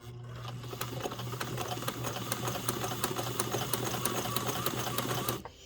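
A sewing machine stitches a hem in fabric, running steadily with a rapid rhythmic needle clatter for about five seconds before stopping abruptly, close and loud with no talking.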